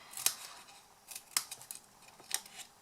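Scissors snipping wedges into the corners of a tiny chocolate box, three crisp close cuts spaced about a second apart with faint handling rustle between them.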